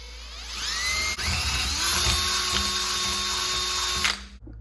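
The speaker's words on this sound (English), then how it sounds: "I'm actually just going to drill straight through here" A power drill bores straight through a PAIR valve part from a DRZ400SM motorcycle clamped in a vise, whining loudly and steadily for about four seconds with a rising pitch at the start before it cuts off.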